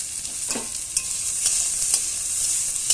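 Vegetables fry with salt and turmeric, a bright continuous sizzle close up with a few light stirring scrapes over three seconds.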